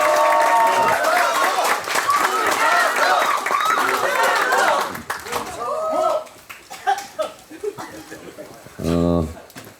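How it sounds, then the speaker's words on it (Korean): A crowd applauds at a Korean political party rally in Gangwon, with dense clapping and cheering under an amplified speaker's voice that fades into scattered claps and a brief loud tone. "여러분 우상호 예비 후보에게 아낌없는 큰 박수를 부탁드리겠습니다."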